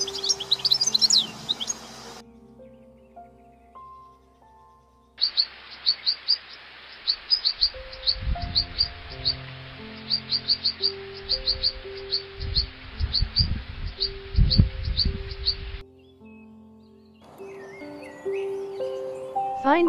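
A European goldfinch sings in bright, rapid twittering phrases, clear and fairly close, with a long stretch of thin chatter interrupted by lower thumping noises, then more chirps near the end.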